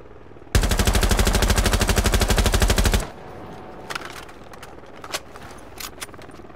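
Automatic gunfire with recoil in Rainbow Six Siege: a loud, rapid burst of evenly spaced shots lasting about two and a half seconds, followed by a few faint scattered clicks and taps.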